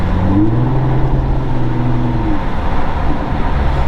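The loud exhaust of an Infiniti G35 with resonator and muffler delete drones at idle and gently revs, a deep rumbling tone rising and falling steadily.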